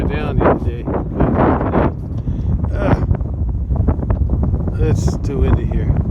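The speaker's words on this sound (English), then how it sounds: "Oh, it's windy." Wind gusting across an open hayfield with baled hay, buffeting the microphone in loud rumbling bursts while someone speaks over it.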